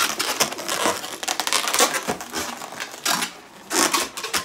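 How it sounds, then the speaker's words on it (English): A long modelling balloon squeaks and crinkles as it is folded and twisted into a sword, producing close, rubbery rubbing and scrunching bursts in an uneven rhythm with no talking. "So I fold a certain part of the balloon over."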